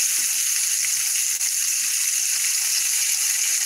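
Food sizzling and frying in a pan during a cooking session, meat seasoned with black pepper, a steady hiss running unbroken throughout at moderate level with no talk over it.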